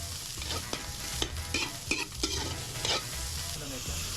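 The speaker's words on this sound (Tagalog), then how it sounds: "ginigisa ang buong hipon na tinatad para mas maging malasa" Chopped whole shrimp sautéing in a pan for tininghi in Mauban, Quezon. The sizzle is close and continuous, with repeated scraping stirs over it and no talk.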